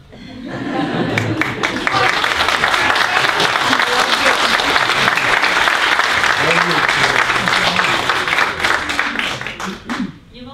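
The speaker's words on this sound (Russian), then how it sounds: "Аплодисменты." A concert audience at a Turkic peoples' music concert applauds for about ten seconds, swelling in, holding loud with some individual sharp claps and scattered voices and chuckles, then dying away.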